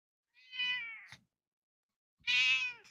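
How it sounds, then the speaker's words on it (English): A cat meows twice close up, two drawn-out, tonal calls separated by a pause of about a second, in an otherwise quiet room. "Love the kitty here."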